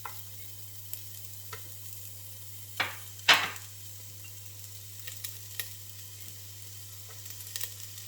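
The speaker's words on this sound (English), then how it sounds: "once that begins to melt, we're going to first add the chopped onions" Chopped onions dropped into melted coconut oil in a pan, a low sizzle with a couple of louder bursts and scattered light clicks, set against a steady background hum.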